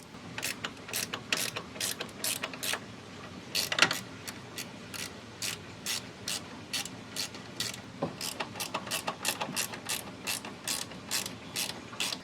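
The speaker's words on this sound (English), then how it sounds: "So we're going to be removing these 2 bolts with the 10 millimeter we have here." A ratchet with a 10 mm socket backs out the brake light bolts on a 3rd Gen Toyota Tacoma, its rapid pawl clicks coming close and steady in bursts across the whole stretch, without any talking.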